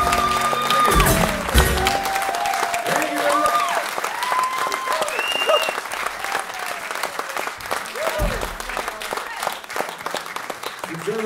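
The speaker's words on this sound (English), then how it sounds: "That's worth another clap, isn't it?" An audience at a live music performance breaks into sustained, dense applause that fills the room. Scattered whistles and cheers rise above the clapping, and voices can be heard among the crowd.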